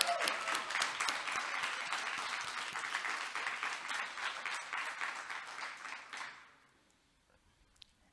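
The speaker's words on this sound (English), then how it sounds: "So these students deserve an even bigger hand of applause for all their hard work." An audience at a conference gives students a warm round of hand-clapping, steady and full for about six seconds before fading out quickly to near silence.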